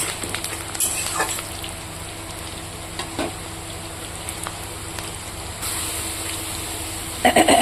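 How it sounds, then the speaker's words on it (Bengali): Garlic, onion and ground spice pastes fry in a pan with a steady, close crackling sizzle, punctuated by occasional scrapes and stirring taps. "রসুন আর পেঁয়াজ তো হালকা করে এখানে ভেজে নেব তারপরে এখানে আমি দিয়ে দেবো বেটে রাখা মশলাগুলো"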